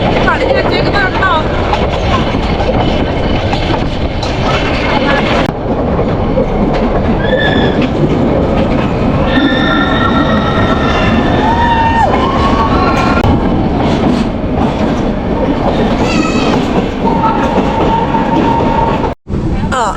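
The Ooty to Mettupalayam toy train running, a loud continuous rumble and clatter of rail cars with wheel squeal and several high whistle-like tones in the middle, while voices talk over the steady noise.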